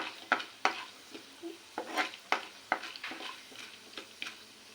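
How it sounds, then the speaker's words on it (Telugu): Mustard seeds fry in hot oil, giving off a series of sharp, irregular pops and crackles over a faint sizzle, close by and moderately loud, with no voices. "కొంచెం ఆవాలు ఫ్రై చేసుకుందాం"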